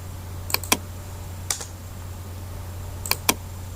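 Computer keyboard typing in a word-processing program: a few isolated clicks in small pairs with long gaps, close and clear over a low, steady electrical hum.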